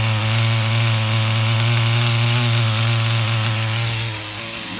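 HPI RS4 nitro RC truck engine being bench tuned, a loud buzzing two-stroke whine at high revs, held steady with its pitch wavering slightly before easing down near the end, close up and alone.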